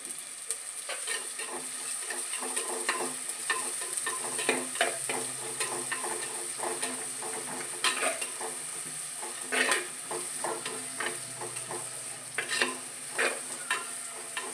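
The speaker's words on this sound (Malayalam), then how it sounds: "ഇനി നന്നായിട്ടിത് ചുവക്കുന്നത് വരെ ഒന്ന് ഇളക്കി കൊടുക്കാം." Shallots sizzling in hot oil in a pan, stirred steadily with a utensil, giving a continuous bright frying hiss with frequent close scraping and clinking strokes, no voices.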